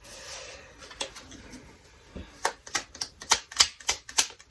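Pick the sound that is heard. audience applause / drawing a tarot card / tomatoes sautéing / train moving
drawing a tarot card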